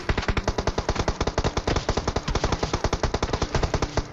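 Rapid, sustained automatic gunfire from an enemy in the mobile shooter PUBG Mobile, dense bursts of shots rattling continuously for about four seconds, loud and close with no talk.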